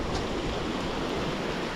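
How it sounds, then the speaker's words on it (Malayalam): Clear water flowing along a forest stream beside a jungle road on the way to Pamba, a steady broadband rushing wash that fills the whole stretch without pause, close to the microphone and with no voices. "നല്ല അടിപൊളി തെളിഞ്ഞ വെള്ളം ഒഴുകി വരുന്നത്"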